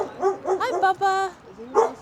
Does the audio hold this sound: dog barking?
yes